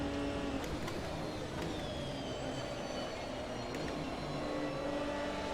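A Maserati and an LMP2 prototype race car run together in a 2005 multi-class race in the sim racing game Automobilista 2, giving a continuous, fairly quiet engine drone with no break.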